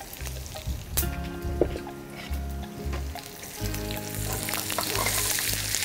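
Dried red chilies and five-spice tempering sizzle in hot oil, a continuous crackling hiss running beneath steady background music, with a few sharper pops.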